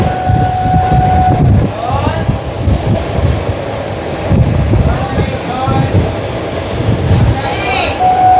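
A Sealdah to Amghata local train rumbles along with a steady, loud low roar and rattle, brief squeals and whistle-like tones cutting through, while people talk over the noise.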